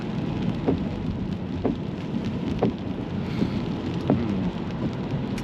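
Light rain patters steadily on a surface, with a few sharper drops or taps spaced out over a low background rumble.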